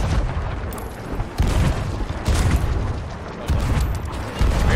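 Repeated heavy booms of ship cannons firing in a Sea of Thieves arena match, dense and loud, with several blasts overlapping into a continuous rumbling barrage.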